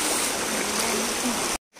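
Water tumbling from the Pachamalai hills over stones in a small falls near Malayalapatti, Tamil Nadu, makes a steady broadband rush close by, continuous for about a second and a half before cutting off abruptly.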